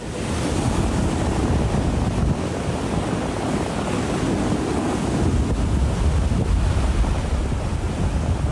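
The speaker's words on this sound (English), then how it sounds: "Watching these massive waves crash into the coast of Sicily" A continuous roar of heavy surf pounds the coast of Sicily, mixed with gusting wind buffeting the microphone, loud and unbroken throughout.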